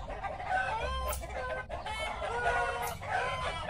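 Chickens in a coop cluck and squawk continuously and close by, with drawn-out, crowing-like calls rising over the steady chatter of the flock.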